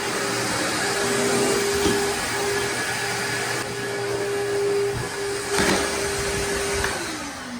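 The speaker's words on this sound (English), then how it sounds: "We're done with the vacuum cleaner." A vacuum cleaner runs steadily throughout during a home remodel job, a loud continuous motor whine with a steady tone that dips slightly near the end as it starts to wind down.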